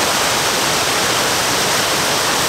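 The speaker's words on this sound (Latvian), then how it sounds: "Un šeit ir tādas krācītes" A river pours out of a pond over small stony rapids, a loud, close, unbroken rushing roar with no voices.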